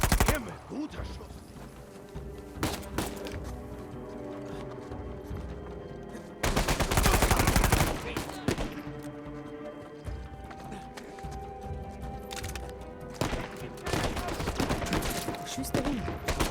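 Heavy gunfire in the Uncharted 4 video game, with repeated bursts of shots and a loud, dense barrage in the middle, plus scattered single cracks before and after.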